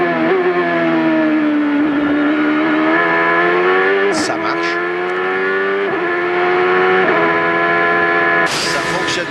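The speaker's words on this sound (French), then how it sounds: "on écoute la boîte de Wilson au freinage" A Champ Car race car at a 2004 Grand Prix at Elkhart Lake roars loudly under braking, engine pitch stepping down through quick gearbox downshifts with sharp crackles between, close and dominant throughout.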